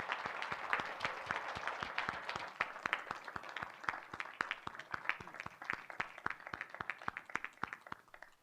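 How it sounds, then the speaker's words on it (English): A small audience at a city council meeting applauds a soccer team, steady clapping from a modest group at middle distance that holds evenly, then thins toward the end. "Let's give them a round of applause too."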